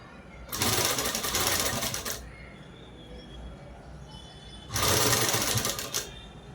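Sewing machine stitching cloth in two bursts of rapid, even mechanical chatter, each about one and a half seconds long and close up, with a quiet pause between them.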